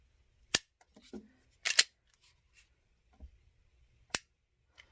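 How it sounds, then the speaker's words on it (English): Sharp mechanical clicks from a Bersa BP9CC pistol's trigger resetting, a few crisp isolated snaps spaced unevenly in near silence, close up. "That's a pretty good reset on this gun."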